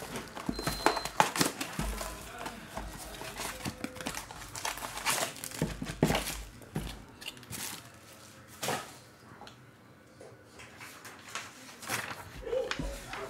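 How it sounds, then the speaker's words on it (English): A Panini Absolute football card blaster box being ripped open by hand, with close crinkling and tearing of cardboard and wrapper in irregular bursts, quieting briefly before a few final rustles. "let's rip this box here"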